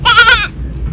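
A single loud, close goat bleat on a farm, a short wavering cry lasting under half a second before fading to quiet background.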